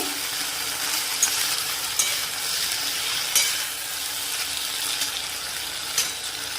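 Steady sizzling of okra frying in a hot pan, with occasional light scrapes of stirring, close and continuous.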